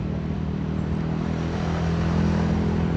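A motorcycle engine held steady at 5,000 rpm while riding in traffic, giving a continuous, even drone with a constant low hum and steady loudness throughout, no voices.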